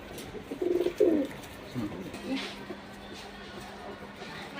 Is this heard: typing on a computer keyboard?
no